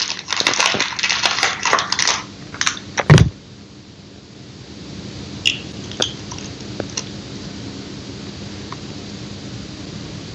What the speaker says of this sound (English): Remove the cartridge from the packaging.